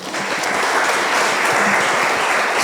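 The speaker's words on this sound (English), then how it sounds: "so we might clap for her" A dense, steady wash of audience clapping fills the hall after a one-on-one interview with a brewing company's finance chief, loud and continuous with no gaps.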